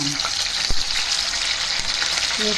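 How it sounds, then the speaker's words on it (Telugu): Pieces of Andhra-style spicy masala fish (ragandi) frying in hot oil: a steady, even sizzling hiss with a faint thud partway through and brief tonal sounds at the start and end. "ఆయిల్ వేడయ్యాక ఒక్కొక్క ముక్క ఇలా వేపుడు"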